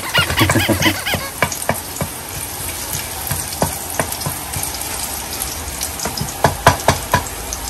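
Garlic fries in a pan, crackling and popping steadily up close with scattered sharp spits and occasional stirring, before leddeg goes in; no one speaks.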